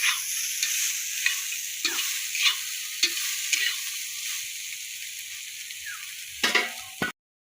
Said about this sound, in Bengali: দিলাম ভালো করে একটু কষা কষা হবে